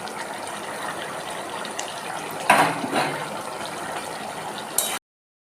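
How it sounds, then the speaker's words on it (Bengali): Prawns go into a pot of boiling jackfruit curry, with a steady watery bubbling bed broken by a couple of brief splashy bursts near the end, close and fairly quiet, with no talking. "এরপর আমি চিংড়ি মাছগুলো দিয়ে দেবো"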